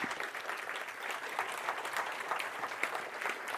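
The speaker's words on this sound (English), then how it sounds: "So give a warm round of applause for Dr." A warm round of audience applause welcomes a researcher to the stage at a university talk on ayahuasca research; steady, fairly distant clapping from a sizable room continues for several seconds.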